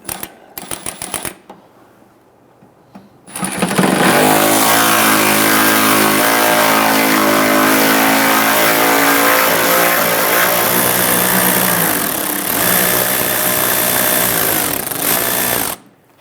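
A power tool loosens and removes a single 10mm bolt inside the front fender liner of a 2005-2010 Chrysler 300, a few short bursts, then a loud, steady close-up whirring run that stops abruptly.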